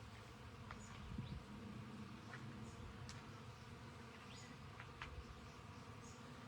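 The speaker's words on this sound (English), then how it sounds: "it is the sound of bees buzzing" Bees buzz steadily around the white flowers of a San Pedro cactus, a dense insect drone with individual insects flying close by and passing through.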